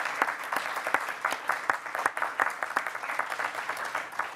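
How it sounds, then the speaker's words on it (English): Moderate applause from the audience at a school board meeting, a few dozen individual claps ringing out distinctly in an uneven rhythm at medium distance, with no talking. "let's give the Welty Environmental Center a round of applause for that."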